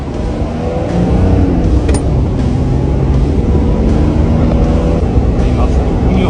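A Nissan Patrol GR Y60 diesel engine with a freshly prepared mechanical injection pump runs at a steady idle, a loud, close, even rumble throughout, with someone speaking over it.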